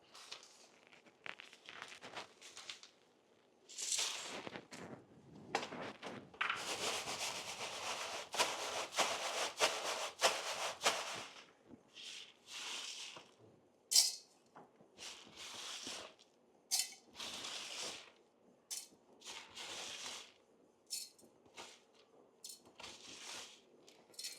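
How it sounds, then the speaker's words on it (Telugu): Maize grains being ground by hand, producing irregular gritty rubbing and scraping bursts, close and fairly faint, with longer grinding passes early on and shorter strokes separated by pauses later. "ఇది మళ్ళీ గ్రైండింగ్ చేసుకుంటే ఇట్లా ఇట్లా వస్తుంది"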